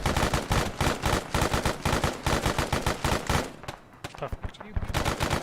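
Sustained suppressing automatic gunfire in the military shooter Arma 3, a fast rapid-fire burst stream of loud, close shots with a brief lull near the end, while a voice briefly speaks over it.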